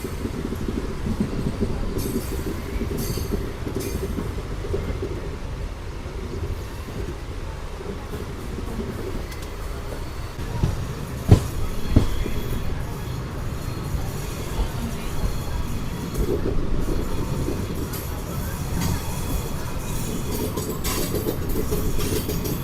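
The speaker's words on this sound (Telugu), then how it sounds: "ఆ ట్రైన్ వచ్చేసి బాసంపల్లికి అయితే వచ్చేసింది." A passenger train on the Anantapur to KSR Bengaluru route rolls into Basampalli station, a steady low rumble with a few sharp metallic clanks, fairly constant throughout with no clear talk.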